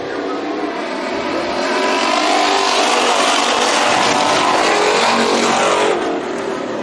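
Race cars roar around Bakersfield Speedway in the final heat race of the night, a loud continuous engine drone building and swelling as the field passes close by, with no talking.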